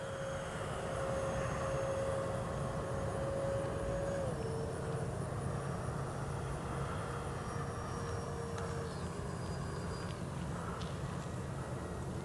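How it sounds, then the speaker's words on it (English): A Freewing twin 70mm AL-37 RC jet takes off outdoors, its steady high-pitched ducted-fan whine rising and sliding in pitch over constant wind and field noise. "Pilot's clear for takeoff."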